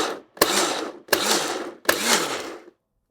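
A blender pulses coriander salsa for a veggie burger in three loud, separate bursts of whirring and chopping, each lasting about half a second with short silent gaps between.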